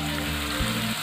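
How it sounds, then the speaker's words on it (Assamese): Onions fry in a pan over a medium flame, giving a steady, even sizzle throughout with no voices. "পিঁয়াজখিনি ভাজি থকাৰ সময়ত গেছটো বেছিকৈ বঢ়াই নিদিব, মিডিয়াম ফ্লেমত আমি ভাজিব লাগিব।"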